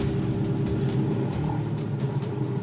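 A car engine pulling away during a driving lesson makes a steady, low, close rumble inside the cabin with no voices over it.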